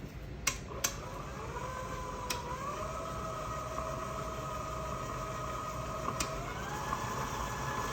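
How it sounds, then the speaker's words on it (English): An electric mixer creams butter and sugar together for a homemade pound cake, giving a steady whirring motor hum with a few sharp clicks and clatters. "we're just gonna cream that butter and sugar together"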